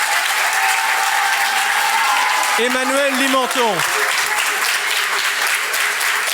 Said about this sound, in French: Vous pouvez les saluer en les applaudissant.